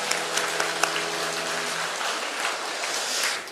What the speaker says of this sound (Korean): 뜨겁게 박수하겠습니다